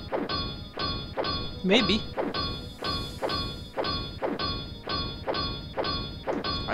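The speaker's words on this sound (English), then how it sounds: "I'm going to try and destroy this statue." Heavy melee blows strike a statue in Hexen II, about ten loud, evenly spaced thwacks, each with a ringing metallic ding, while a voice briefly speaks partway through.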